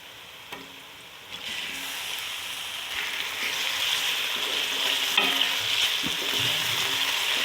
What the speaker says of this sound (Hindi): 2 से 3 मिनट भून लूँगी।